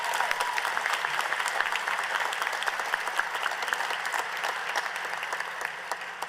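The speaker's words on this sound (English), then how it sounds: "can we give them a round of applause" Sustained audience applause for event sponsors at a youth awards night, a dense crowd of clapping hands at moderate distance, steady throughout with no speech.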